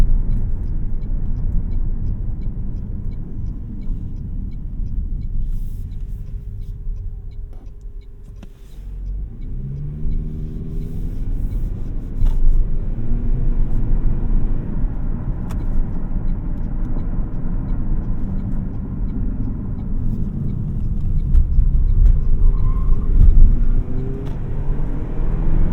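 Inside a 2024 Toyota Prius Prime XSE Premium on the move, steady low tire and road noise rumbles throughout, with a mild swell in engine and road roar toward the end.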